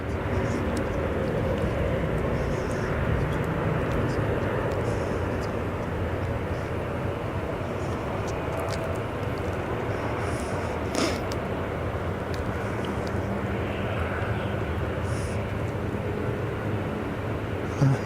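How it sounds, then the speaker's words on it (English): An Edelweiss Airbus A340 airliner at Zurich Kloten airport gives off a steady, distant low engine rumble that holds evenly throughout, with faint clicks and noises nearby. "Yeah, it's what beauty is the Edelweiss livery? That's an A340."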